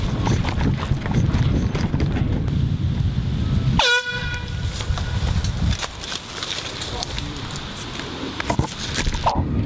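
A single loud blast from a handheld air horn rings out on a golf course, a short piercing honk standing out over wind noise and outdoor chatter.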